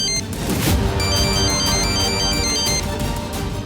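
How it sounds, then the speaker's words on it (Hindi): A musical phone ringtone plays continuously and fairly loud, its bright repeating tones layered over a busy background with no talking. "अरे फिर से फोन आ गया।"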